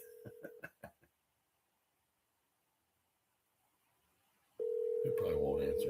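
A telephone call is placed on a live radio show: a short burst of dialing tones, a long silent pause, then a loud steady ringback tone.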